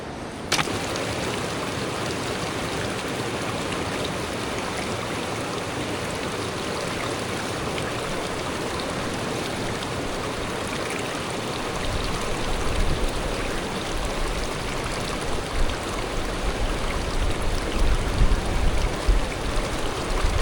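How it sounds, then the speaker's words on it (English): Stream water runs steadily throughout while prospecting for gold in thick brush, a continuous broadband rush that swells slightly louder and rougher in the second half, close and alone with no talking. "I think the water's running slow enough to be fine."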